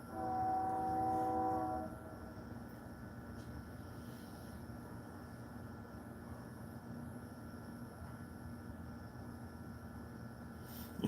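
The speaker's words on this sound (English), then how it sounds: "Oh, you can hear the train in the background?" A distant train rumbles steadily through a town, opening with a sustained horn blast that fades after about two seconds, leaving a low continuous rolling drone in the background.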